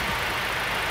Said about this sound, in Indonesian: ini posisi mesin dalam keadaan hidup